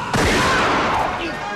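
Gunfire in a tense film standoff: a sudden loud blast about 0.1 s in, followed by a sustained dense roar of shots or echoing crashes that fills the rest of the clip at high level.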